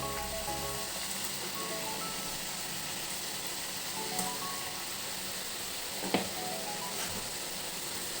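Shankarapali dough frying in hot oil gives a steady, close, bubbling sizzle that never lets up, with a couple of faint clinks over it.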